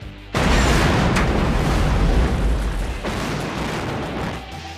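A loud demolition explosion from a Lethal Weapon film shoot bursts in with a deep, sustained roar and heavy low rumble, holding strong for several seconds before easing slightly, with no talking.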